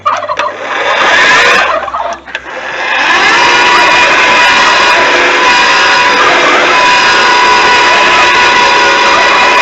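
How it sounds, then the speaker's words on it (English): A Ryobi auger used as a feed mixer, churning duck feed, running loud and steady with a continuous whirring motor drone after a brief rough start, close to the mic and without talk. "And the Ryobi Auger."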